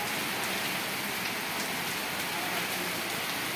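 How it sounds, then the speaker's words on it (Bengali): Heavy afternoon rain pours down steadily as a dense, even hiss with no pauses, loud and close throughout, with no voices. "বিকেলে বৃষ্টি হচ্ছে, অনেক জোরে জোরে বৃষ্টি চলছে।"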